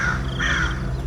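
A crow caws loudly in a couple of harsh, drawn-out calls, close and clear over a steady low background hum, used as a sound effect in a spoken ghost story.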